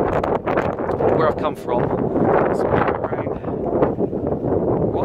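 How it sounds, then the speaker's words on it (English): Strong wind buffets the microphone on a Highland hill track between Kinlochleven and Fort William, a constant roaring rush beneath someone talking throughout. "It's a bit windy, so I hope you can hear me"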